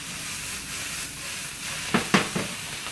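Greens sizzle in a hot pan with lemon squeezed over them, a steady soft hiss broken near the end by a few quick scraping stirs, close and fairly quiet with no talking.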